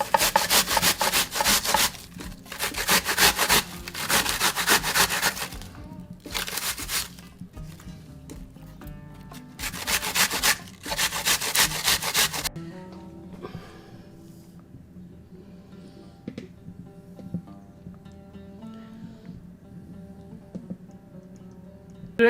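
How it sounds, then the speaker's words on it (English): An onion is grated by hand for chicken kebab, giving rhythmic bursts of rasping strokes separated by brief pauses before fading to quiet background clatter. "I grated the onion."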